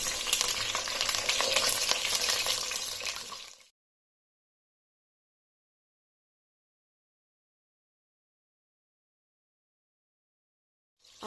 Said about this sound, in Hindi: अब आलू को 4 से 5 मिनट तक ऑयल में फ्राई होने देना।